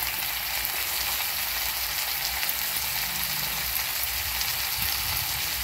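Onions with a chopped large tomato frying in a pan for a greens stew, a dense even sizzle held close and steady throughout, no voices.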